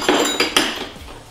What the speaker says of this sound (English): Really clanking around over here.